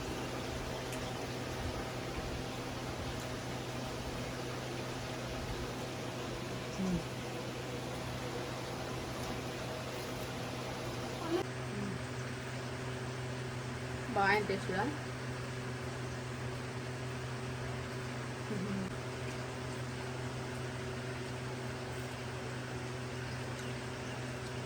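Steady whirring of a room air cooler drones on throughout, its fan hiss and motor hum constant in the background while a person speaks briefly over it and a few small clinks sound.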